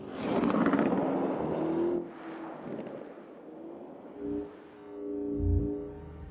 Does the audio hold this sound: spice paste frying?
no